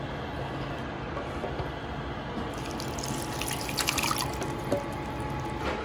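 A soft trickle and splash of green mint sauce being poured into a cup of water, with a few faint drips near the end.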